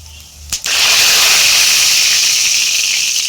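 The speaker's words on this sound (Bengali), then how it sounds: "এখন দিয়ে দেব পাঁচফোড়ন।" Panch phoron dropped into hot mustard oil in a heated kadai bursts into a loud, sudden hiss that holds steady and close for nearly three seconds.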